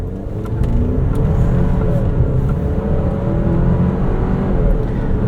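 A 2025 Alfa Romeo Stelvio Tributo Italiano AWD SUV accelerating hard, heard from inside as a loud, dense, steady engine drone with road roar that holds strong and even for several seconds.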